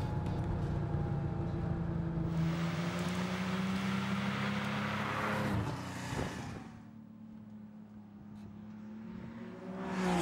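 A 1971 Porsche 911T drives on a road with a steady droning engine note, heard from close by. A rush of wind builds over it and then falls away as the engine quietens.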